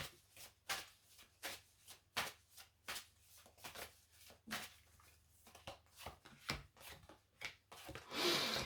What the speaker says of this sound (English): let's just pull your 3 angel cards out to see what they say